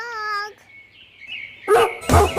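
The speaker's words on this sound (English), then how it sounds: "D for dog." A dog in a children's alphabet song gives two loud barks close together, following a brief musical tone and a quiet gap.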